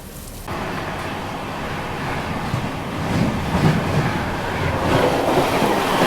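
A train pulls out of Etawah during heavy rain, a loud, steady rumble and rush of carriage noise building slightly as it moves, with no voices.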